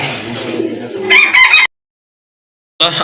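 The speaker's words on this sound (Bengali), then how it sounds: "আরেক জোড়া কবুতর দেখতে পাচ্ছেন" Pigeons coo and cluck close by in a loud burst of mixed bird calls, broken by a full second of silence before a brief final call.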